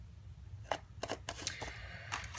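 Small die-cut paper pieces are punched and snipped out of a card-making die panel. Several quiet, crisp clicks and snips come in an irregular rhythm over a low hum.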